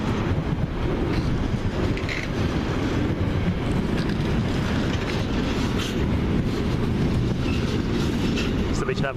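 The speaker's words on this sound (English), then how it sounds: "So we should have a word about that train." A train rolls steadily past at Eastleigh, a continuous loud rumble with rhythmic clickety-clack of wheels over rail joints throughout.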